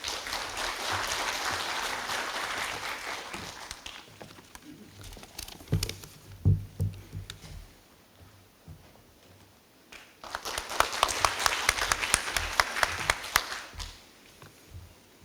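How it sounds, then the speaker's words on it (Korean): Residents at an apartment reconstruction briefing break into applause in two separate rounds, one at the start and another near the end, with a quieter gap of scattered sounds between them. "다시 한번 큰 박수로 맞아주시기 바랍니다."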